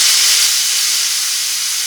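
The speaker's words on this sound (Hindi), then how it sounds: "और ये जो पापड़ है इन्हें भी मैं फ्राई करती हूँ" Papad frying in hot oil in a home kitchen, giving a steady, loud sizzling hiss that runs unbroken and close throughout.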